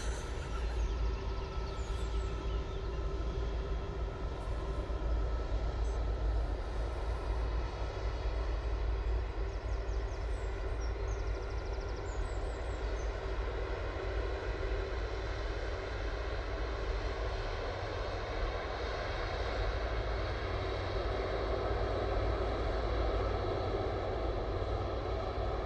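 An Etihad airliner crossing runway 05 left at Manchester Airport, a continuous steady engine drone and rumble, moderately loud and unbroken, with no voices.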